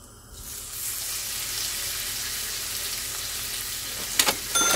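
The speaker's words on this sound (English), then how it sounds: "Now we can start frying chops." Lamb chops fry in a pan of oil and butter, giving a steady, close sizzle that starts after a brief pause and runs throughout, with a small clatter near the end.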